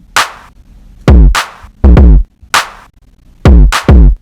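Clap and kick drum samples play together in a Logic beat, a sparse pattern of sharp claps and booming low kicks landing in uneven rhythm, loud and close with nothing else around them.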